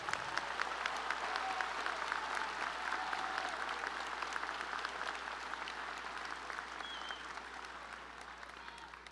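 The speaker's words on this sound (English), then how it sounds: "Will you please join me in giving them a wonderful round of applause?" A graduation audience at Sparkman High School applauding the school staff, a broad, sustained roar of clapping from a large crowd in a big hall that slowly eases off.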